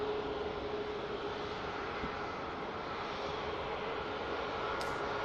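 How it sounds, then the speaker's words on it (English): A Jet2 Airbus A321neo airliner departing Manchester Airport for Tenerife gives a steady, distant engine roar that holds level throughout, with no talk over it. "There's the Jet 2 A321 Neo heading out to Tenerife"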